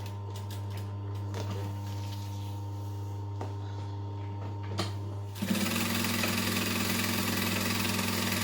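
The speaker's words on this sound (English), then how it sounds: "sew across it all the way to the edge, but leaving the 1/8 seam allowance" A sewing machine hums steadily as it stitches across a fabric edge, a low motor drone with faint ticks, then shifts into a louder, denser, faster run of stitching near the end.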